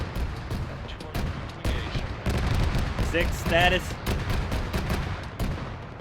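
Rapid gunfire bursts and single shots crack repeatedly in a military shooter game, dense and fairly close, with radio-style voice chatter over the top.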